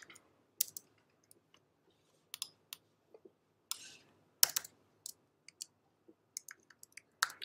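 Java code being typed on a computer keyboard: sparse, irregular bursts of key clicks with quiet gaps between them, close and fairly soft, with no talking.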